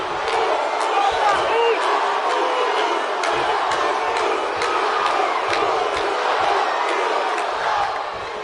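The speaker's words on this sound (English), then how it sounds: "The crowd is on their feet for Jey Uso." Crowd noise fills a large arena during a wrestling event in WWE 2K25, a loud sustained roar with rhythmic claps and chants under talk.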